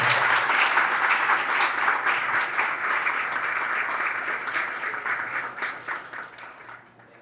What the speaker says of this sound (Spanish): Por favor, recibámosla con un fuerte aplauso.